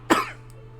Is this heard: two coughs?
yes